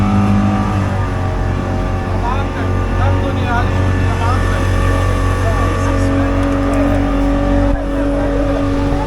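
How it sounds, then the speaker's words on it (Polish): Racing motorboats on the Nile at Luxor give off a loud, steady engine drone that stays constant throughout, with voices talking over it. "Teraz wyścigi łódek będą."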